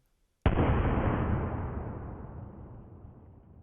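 A single sudden, loud gunshot from a very short-barreled shotgun firing a dragon's breath round booms, followed by a long roaring, crackling rush that slowly fades over several seconds.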